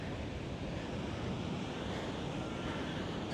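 Ocean waves and surf at Ocean Beach in San Francisco give a steady broad wash of water, mixed with wind buffeting the microphone, with no clear individual breakers and no voices.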